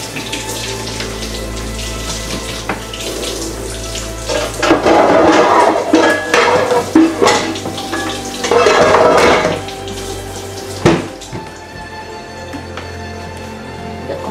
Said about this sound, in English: Okay, so I gotta start the potato water.